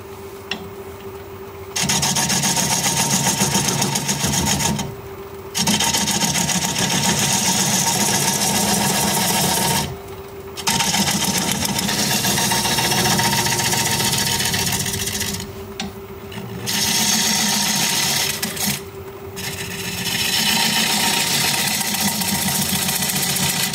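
A 5/8 inch bowl gouge cuts a wood root ball spinning on a lathe at 460 RPM, giving a steady loud rasping, scraping drone in long passes broken by several short pauses.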